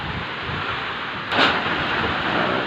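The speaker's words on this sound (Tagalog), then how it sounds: "Hapon na po nang dumating ang bagyo." Heavy typhoon rain roars steadily with strong wind noise, and a brief louder gust or rumble of thunder swells partway through.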